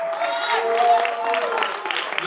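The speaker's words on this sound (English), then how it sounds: "I think we might clap for them anyway." Audience at an ECOWAS Parliament town hall clapping for debaters, a brief, moderate patter of applause mixed with a voice speaking over it.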